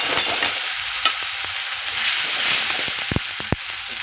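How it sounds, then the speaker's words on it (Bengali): Ginger-garlic paste fried in a pan, giving a loud, continuous sizzle broken by repeated scraping strokes of a spatula and a few sharp knocks near the end. "আগে আদা রসুন বাটাটা দিয়ে কষিয়ে নিয়ে তারপরে মাছটা দেবো"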